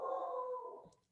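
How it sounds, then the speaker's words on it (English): A dog at home lets out a single drawn-out, howl-like bark that fades over about a second, faint and somewhat distant. "I'm sorry, you may hear my dog barking."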